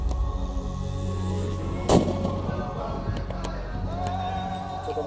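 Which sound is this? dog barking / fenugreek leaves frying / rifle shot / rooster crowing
rifle shot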